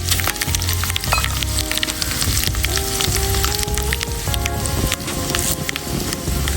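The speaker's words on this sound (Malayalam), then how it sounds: "കടു പൊട്ടുമ്പോൾ വറ്റൽമുളക് ഇട്ട് കൊടുക്കാം" Mustard seeds spluttering in hot oil for a Kerala-style tempering, with dried red chillies added, a steady crackling sizzle with scattered pops and a faint background hum throughout.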